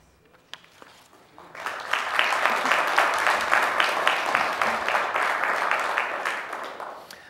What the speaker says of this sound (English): I do appreciate your enthusiasm, but I would ask that you not clap or have outburst.